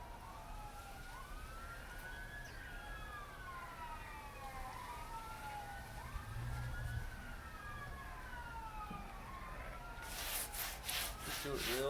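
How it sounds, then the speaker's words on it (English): Distant sirens wail up and down continuously in the background, layered over a steady scraping, rubbing noise. "I have no idea what's going on in the background for the sirens"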